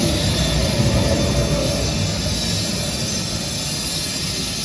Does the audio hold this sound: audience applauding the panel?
no